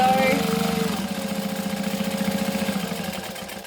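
A sewing machine back-stitching while a Minifacto is sewn, heard as a close, rapid, even mechanical chatter that runs continuously after a brief start.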